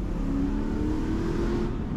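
Aston Martin V8 Vantage engine, about 380 horsepower and running a stock exhaust, after a downshift into first gear. The engine note stays loud and steady from the cabin throughout, with a rising growl and no voices.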